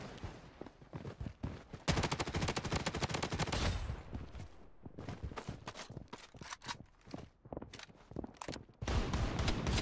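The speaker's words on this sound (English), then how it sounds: "He's got a shotgun." Rapid, loud shotgun blasts and other gunfire in the video game Bloodstrike, packed into dense bursts with short pauses between volleys, from a match on the Shutter Island map.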